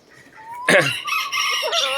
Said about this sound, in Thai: ส่งความสุขให้เพื่อนๆยามเช้ากับน้องไก่สีขาว